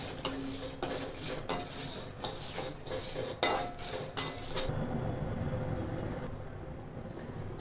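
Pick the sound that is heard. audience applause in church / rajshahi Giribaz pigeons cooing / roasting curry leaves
roasting curry leaves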